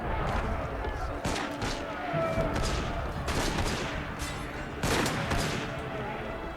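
Gunfire in a prison escape video game, bursts of shots and loud impacts over a continuous din, with excited voices talking over it.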